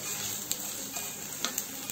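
Green chilies are stirred and fried in a pan, a soft, steady sizzle marked by a few light scraping clicks from the stirring, quiet and close, with no voices.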